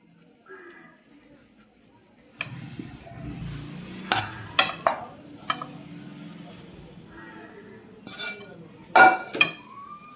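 A spoon clinks and scrapes against a metal plate while a mawa barfi mixture with cardamom powder is mixed and the plate is greased with ghee, giving sharp, irregular clatters and taps that come in bursts near the end.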